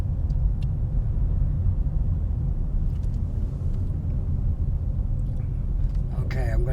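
Steady low road rumble inside a car driving around Bedford Basin between Dartmouth and Halifax, continuous engine and tyre drone throughout with faint rattles near the end.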